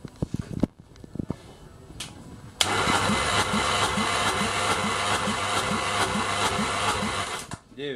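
A Renault 1.6 K7M petrol engine from a Logan II cranks on the starter during a compression test, a fast, even rhythmic churning that starts abruptly after some quieter clatter and runs steadily for about five seconds before cutting off.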